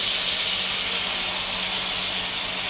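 Hot water poured into a pan of frying fish curry, a loud steady hiss of steam and sizzle lasting the whole stretch with no talk.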